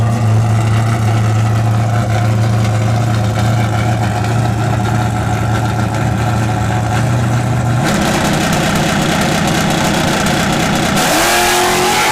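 Fox body Mustangs, a notchback against a hatchback, launching side by side on a drag strip: a steady loud engine drone gives way to a sudden roaring, revving surge, then fading as the cars pull away.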